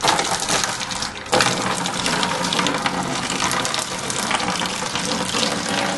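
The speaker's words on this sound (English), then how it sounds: "we're just going to take this and pour it right into our bucket" Wine must is poured into a bucket during home winemaking, a steady broadband splashing stream of liquid running continuously for several seconds, close and fairly loud with a brief dip near the start.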